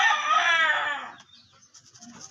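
A chicken gives a short, loud, strained crowing call that fades after about a second, followed by faint scattered background noise.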